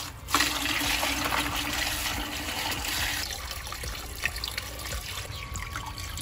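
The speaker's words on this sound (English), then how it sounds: "Now, you want to slowly add your water to your patio bowl pond." Water poured steadily into a patio bowl pond gives a continuous splashing, trickling rush, loud and close, with a few small knocks near the end and no talk.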